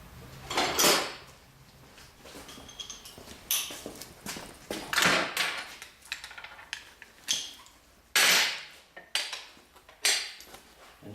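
Wrench tightening a 7/16 bolt on a V8-swapped Miata, with repeated sharp metallic clicks and clanks in bursts across the clip, fairly close and loud, no talking.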